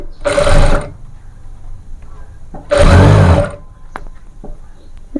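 An electric sewing machine stitches straight along a folded piece of cloth in two loud whirring runs, each about a second long, separated by a pause filled with faint handling clicks.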